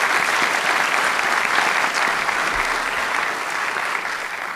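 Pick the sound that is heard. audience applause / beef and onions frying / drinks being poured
audience applause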